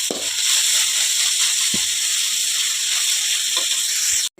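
Vegetables frying in a pan for masala chitranna, a steady loud hiss and sizzle running throughout with a few faint knocks, close up and without talk.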